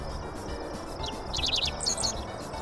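A dickcissel sings a few short, buzzy chirping phrases, faint and somewhat distant over steady outdoor background hiss.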